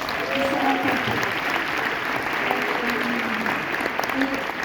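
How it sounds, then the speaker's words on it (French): A premiere audience applauds at a screening of the film The Son, a dense, continuous wash of clapping with voices mixed in underneath. "Vous pouvez applaudir aussi"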